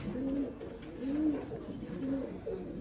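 Football-shaped pigeons, including indigo checker birds, coo in a small collection, giving about four low, rolling coos at a steady rhythm over a constant murmur of background noise.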